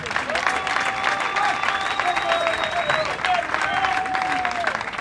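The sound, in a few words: crowd applause and cheering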